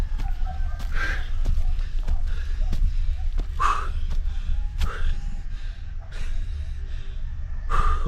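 Heavy breathing and gasping of a person hiking uphill on a mountain trail toward a village, repeated breathy huffs over a steady low rumble, with a few faint rooster-like calls in the background.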